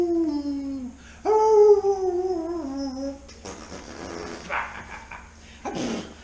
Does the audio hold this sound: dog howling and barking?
yes